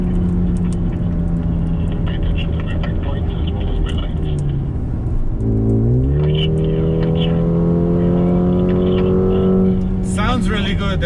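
Mercedes-AMG A35 hatchback driven hard around Sepang Circuit, its engine and exhaust droning loudly and steadily, dipping around a gearshift before pulling back up in rising revs, with a voice talking over parts of it.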